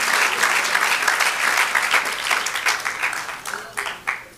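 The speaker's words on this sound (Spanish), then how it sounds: "Ahora sí, aplauda al Señor en el nombre de Jesús" A church congregation claps loudly in a dense, sustained burst that thins out toward the end, with voices mixed in.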